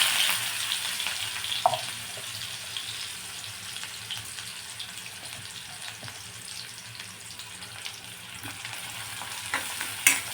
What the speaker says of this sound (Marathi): आता हे सोनेरी रंग येईपर्यंत कांदा भाजून घ्यायचा आहे तेलामध्ये